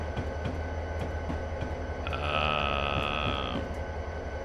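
Simulated freight train rumbling steadily in Train Simulator 2020 on a downgrade at Soldier Summit, with a continuous low drone and a hissing, squealing brake tone swelling midway before easing off.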